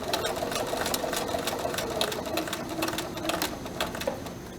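A sewing machine runs steadily, stitching fabric along a curved edge with a dense rapid needle clatter that holds for the whole stretch, close and even in level, with no talk over it.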